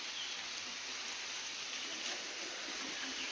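Steady rain falls outdoors, a dense, even hiss of drops on surfaces that stays constant and moderately loud, with no voices over it.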